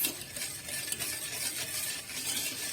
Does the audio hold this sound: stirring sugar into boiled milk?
yes